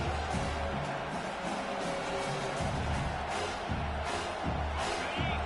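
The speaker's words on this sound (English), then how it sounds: "This crowd, full throat, splitting the eardrums and letting them know it's going to be a long day." College football stadium crowd at a home game against the Longhorns, a loud, continuous roar of many voices with scattered whoops, steady throughout and surrounding a broadcast announcer's voice.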